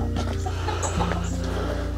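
Backyard chickens cluck and murmur outdoors in the morning, with several overlapping calls over a steady low hum, close by and fairly loud.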